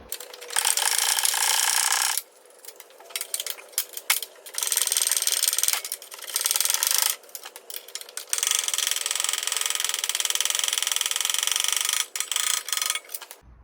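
Ratchet loosening rusty 15mm bolts on a Fiat 500 bumper, rapid buzzing clicks in long bursts separated by short pauses, close and loud, with no speech.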